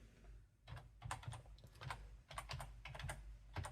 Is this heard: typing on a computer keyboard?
yes